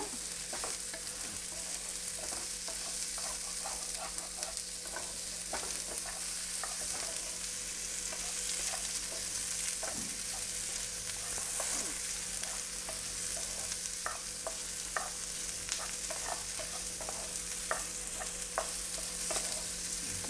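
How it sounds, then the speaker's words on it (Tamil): Onions sautéing in a frying pan for an egg paniyaram gravy, a low steady sizzle with frequent light scrapes and taps of stirring, close but quiet, no voices. "ஆனியன் வந்து கொஞ்சம் கோல்டன் ப்ரௌன் ஆகிற வரைக்கும், நல்லா குக் ஆகிற வரைக்கும் வணக்கி விட்டுருங்க."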